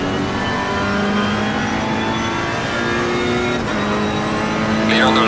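A race car engine in the Assetto Corsa Competizione sim racing game drones loudly and steadily, with a rising rev and a faint tire squeal toward the end.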